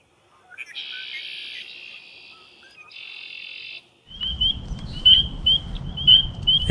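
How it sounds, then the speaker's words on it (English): Tiny spring peeper frogs call in an Eastern Massachusetts wetland in early spring, starting with a buzzy trill and then shifting into loud, repeated high peeps in a steady rhythm over a low rumbling background. "These loud noises are being produced by tiny frogs known as spring peepers."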